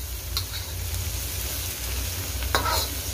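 Jackfruit stir-fry is stirred in a frying pan over a low, steady sizzle, with a few faint scrapes of the utensil and a brief clatter near the end. No one speaks.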